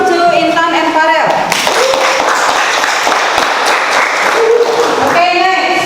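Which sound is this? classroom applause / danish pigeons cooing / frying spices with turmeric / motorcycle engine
classroom applause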